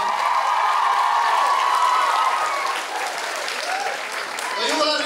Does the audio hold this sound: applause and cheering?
yes